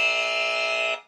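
A podcast quiz buzzer sounds once, a loud, steady electronic tone holding for about a second and then cutting off abruptly, alone without talk.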